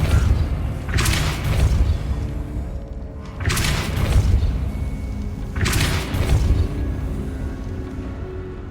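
Depulso force spell cast in the video game Hogwarts Legacy, heard as three heavy booming blasts spaced a few seconds apart over a constant low rumble.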